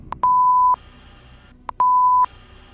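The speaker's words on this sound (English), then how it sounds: "A steady cam captures a REM pod briefly triggered as an unexplained noise is heard." A REM pod ghost-hunting device gives two loud, sustained electronic beeps, each about half a second long and set apart by a pause, with short chirps before each one, in an otherwise quiet cellar.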